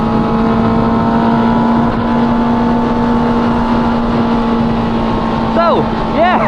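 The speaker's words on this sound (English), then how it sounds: "Akrapovic full system exhaust with the baffles on. It's not too loud." A Honda CB650R with an Akrapovic full exhaust, baffles fitted, drones steadily at cruising speed, with a constant hum, heavy wind rush, and a brief rising rev near the end.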